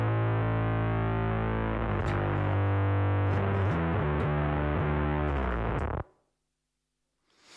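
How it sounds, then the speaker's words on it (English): Bass guitar played through an X drive and a distortion effect on a BOSS GT1000, a thick, loud growling bass line of rhythmic notes that cuts off abruptly into near silence at the end. "all you're hearing is what's coming from my X drive and this distortion"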